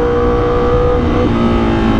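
A Honda Fireblade superbike with an SC Project exhaust revs hard nearby, its loud engine tone rising and shifting pitch across two continuous seconds.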